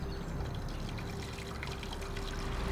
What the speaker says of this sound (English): Should I run the tap and see if it's coming out there?